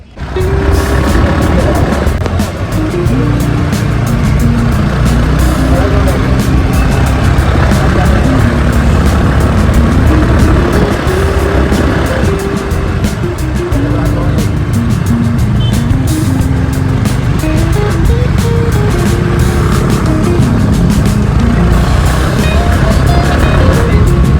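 Car engine climbing steadily uphill toward Raj Bhavan in Nainital, heard from inside the cabin with a constant loud drone, shifting engine tones and road rumble throughout, with occasional voices.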